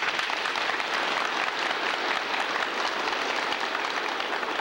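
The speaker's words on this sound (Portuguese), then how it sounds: "eu queria uma salva de palmas para ele" Dense, even applause from an audience at a 1987 facility inauguration in Claraval, Minas Gerais, sustained at a steady level throughout, with no voices above it.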